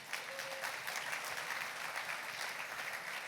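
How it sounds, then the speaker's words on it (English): Steady audience round of applause at a Celebration of Hope evening event, a dense continuous wash of clapping heard fairly quietly and from a distance, with no talk over it. "Give yourself a round of applause about that."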